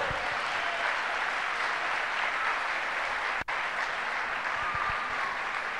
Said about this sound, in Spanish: ¡Aplaudo al Rey!